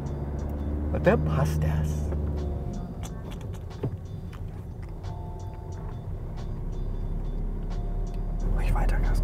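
A car during a driving lesson: the engine hums low and rises as it accelerates, first at the start and again at the end, with an instructor and learner talking over it inside the cabin.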